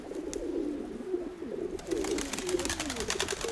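Pigeons coo repeatedly at close range beside a nest where a female dove sits after laying her second egg, the soft throaty calls overlapping with light rustling.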